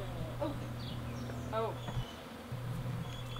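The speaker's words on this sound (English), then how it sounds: "the bees are already finding their new home" Quiet, steady low buzzing of bees close by, with brief higher chirps and faint rustling over the hum.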